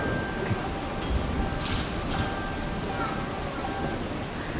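Rain falls in a steady, dense hiss that holds even across the whole stretch, with a faint rumble underneath and no voices over it.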